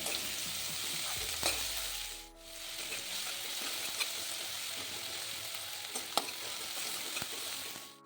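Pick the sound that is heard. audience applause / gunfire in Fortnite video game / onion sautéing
onion sautéing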